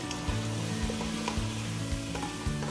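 Red chili, fennel powder and garam masala stirred into a hot pan for Kashmiri apple-eggplant curry, a steady close sizzle with rhythmic scraping strokes running throughout.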